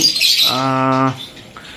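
A pet bird in a home breeding aviary gives one loud, harsh squawk of about half a second, close by, over a background of fainter high chirping.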